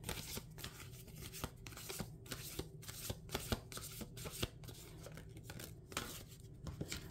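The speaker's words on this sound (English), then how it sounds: "Let me get the cards and see what wants to come out for the Virgos." Tarot cards being shuffled by hand, a quiet rapid riffling and flicking repeated in short bursts close by, with no talk over it.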